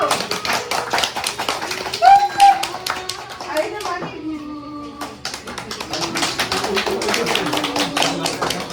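Clapping for a gift at a 40th wedding anniversary celebration, a brief scattered burst of tapping hands amid people talking and chatter in a room.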